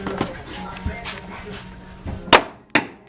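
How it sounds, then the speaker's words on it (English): Metal anchor bolts for an ATM are struck with a hammer: a few scattered taps, then two sharp loud metallic blows near the end, with soft background noise between. "You saw us hammer the bolts down"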